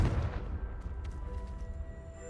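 A Confringo blasting spell erupts in Hogwarts Legacy, a heavy low boom that rumbles and decays over a couple of seconds, with no talk over it.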